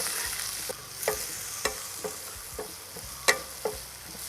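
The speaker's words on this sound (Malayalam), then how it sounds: "നല്ലോണം വഴറ്റി കൊടുക്കണം" Onions sauté in a pan with a pinch of turmeric and chili powder, giving a low steady sizzle broken by repeated spatula scrapes and taps at an uneven rhythm, close by and with no voices.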